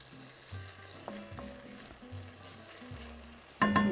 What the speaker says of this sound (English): I'm going to keep stirring this just a little bit so all of that garlic hits the pan and can soften up equally